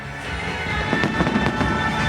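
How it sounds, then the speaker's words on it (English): New Year Hogmanay fireworks burst above Edinburgh Castle, a dense continuous crackle with scattered sharper bangs, loud and sustained throughout, with no voices over it. "You can see the fireworks behind me above Edinburgh Castle."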